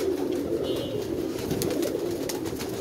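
Soft pigeon cooing repeats at a steady murmur from a flock of pigeons, fairly close, with no talking over it.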